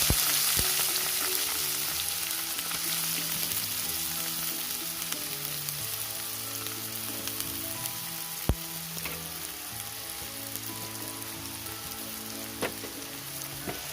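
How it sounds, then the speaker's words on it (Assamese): Chopped onions frying in hot oil in a pan for chicken curry, giving a steady close sizzle throughout with occasional sharp clicks and stirring sounds and no talking. "এতিয়া আমি ইয়াত কুটি থোৱা পিঁয়াজখিনি দিম।"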